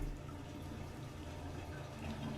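Steady rushing water pours continuously, like a tap filling a tub, in the video game What Remains of Edith Finch, with a low hum beneath and no talking.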